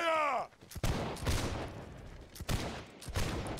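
A musket line volley in the video game Holdfast, heard as a ragged burst of several gunshots that cracks out together and then trails off into scattered further shots, with a brief shouted command at the start.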